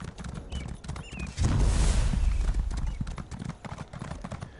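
Horse hooves in The Elder Scrolls video game clip-clop in a steady galloping rhythm, swelling louder midway with a rush of motion noise, then easing back to quicker trotting beats.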